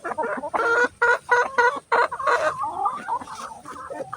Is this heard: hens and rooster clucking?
yes